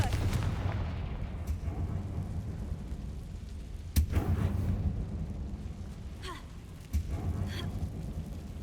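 A Confringo fire spell blasts inside an abandoned mine in the Hogwarts Legacy video game, with two sharp booming bursts about three seconds apart over a constant rumbling ambient bed.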